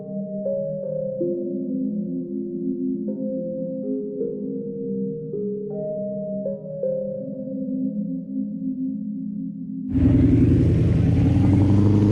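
A Subaru-engined Volkswagen Beetle at a pits and burnouts event idles with stepped revs rising and falling for about ten seconds, then bursts into a loud, harsh full-throttle roar.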